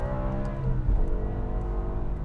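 A BMW E60 M5's V10 engine roars at high revs under full-throttle acceleration, loud and close, with the pitch dipping briefly around a gear change before pulling on.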